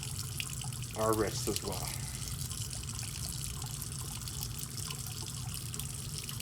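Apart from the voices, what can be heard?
water running from sink tap while rinsing hands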